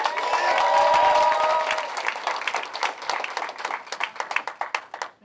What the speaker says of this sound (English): Give a big round of applause there for Jack McGowan.